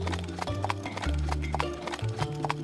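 A horse gallops with rhythmic hoof clip-clops, joined by a whinny, loud and near, over a sustained low musical drone in an animated story.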